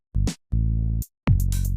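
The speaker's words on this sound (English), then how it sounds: "The bass sounds like this," Bass sample from a music plugin, sounding as three short, deep synth bass notes with brief gaps between them, playing alone and clearly.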